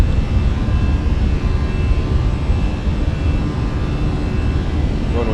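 Fenix A319 airliner in a flight simulator climbing after takeoff with gear retracting, a steady, loud jet engine roar filling the whole stretch with a constant broadband rumble and hiss.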